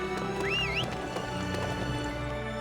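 A horse in the video game Dynasty Warriors 9 lets out a single rising, wavering neigh early on, with soft hoof clops and steady game ambience and music continuing underneath, close and moderately loud.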